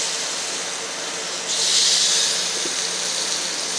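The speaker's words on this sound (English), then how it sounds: "This stove puts out more than enough power to cook these pork chops." An MSR Whisperlite Universal camping stove hisses steadily as it burns under cooking pork chops, its broadband roar jumping louder partway through and then holding constant, with no talking over it.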